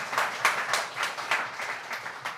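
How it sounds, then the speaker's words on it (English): Audience applause for panel speakers at a climate action discussion, a short burst of clapping from a modest crowd with loud, uneven hand claps that begins to thin toward the end. "So round of applause."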